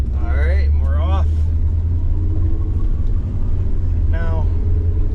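A 1973 Ford Maverick drives along with a steady low engine rumble and road drone throughout, while someone talks over it in short bursts.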